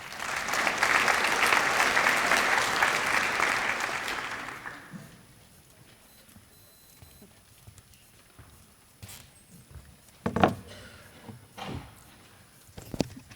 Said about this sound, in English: they all deserve a huge round of applause